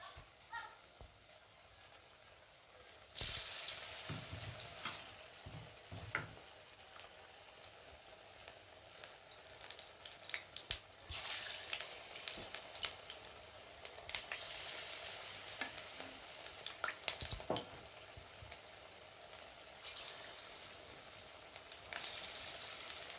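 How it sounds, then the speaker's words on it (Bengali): Cauliflower pakoras fry in mustard oil in a wok, a steady close sizzle that jumps louder as more pieces are dropped in, with occasional light stirring clatter. "তো চলো একে একে কপিগুলো দিয়ে ভেজে নিই।"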